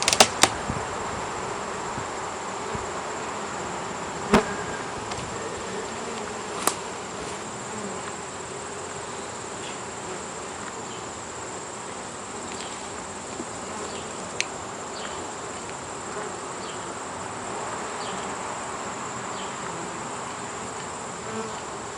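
Honeybees drone in a continuous buzzing swarm at an open hive during a hive check, with a few sharp clicks and taps early on; no voices.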